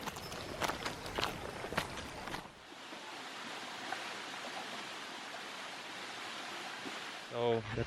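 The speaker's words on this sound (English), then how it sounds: "I'm just gonna keep walking until we find the waterfalls." Footsteps crunch along a trail toward waterfalls on a motorcycle trip in El Nido, with rhythmic steps up close at first, then a steady rushing water noise taking over.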